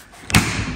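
A latch on a hoisting rig locks shut with a single solid thud, preceded by a short faint click, followed by a brief resonant ring and low background noise.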